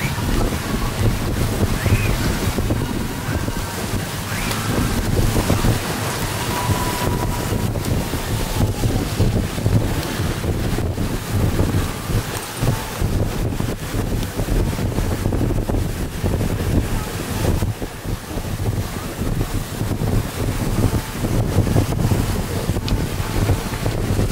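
A Catalina 320 sailboat under way on a January morning off Bermuda, with steady wind buffeting the microphone and waves washing against the hull, continuous and fairly loud throughout.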